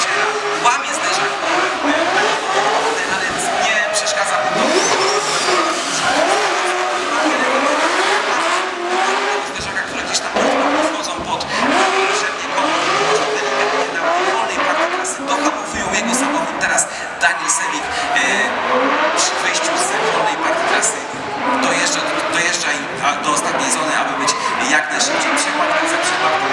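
Drift cars at a Drift Masters round in Płock rev hard with rising and falling engine notes and screeching tires, steady and loud throughout, under continuous commentary.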